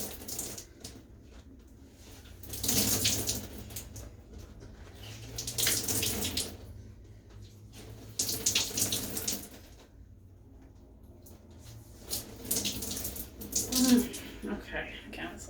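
Water running and splashing as wet clothes are wrung out over a bathtub, coming in several bursts with quieter gaps, close by, with a person talking at times.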